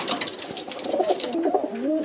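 Soft cooing and low burbling calls of pigeon chicks, close by, continuing steadily for a couple of seconds.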